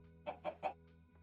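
Three quick clucks from chickens in the Minecraft StoneBlock modpack, fairly close and evenly spaced, followed by a fainter fourth cluck over a steady low game hum.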